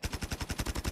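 Rapid automatic gunfire in a competitive video game, a steady burst of about nine evenly spaced shots in under a second, fairly faint in the mix.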